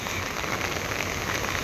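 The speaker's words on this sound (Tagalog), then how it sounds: "parang lumalakas na yung ulan tsaka yung hangin" Heavy storm rain and wind make a dense, steady, loud roar of rain pounding a surface, with no break and no voices.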